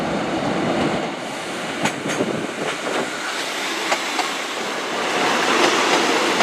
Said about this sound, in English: coming in from Cardiff Central. It's formed of a 153 and a 150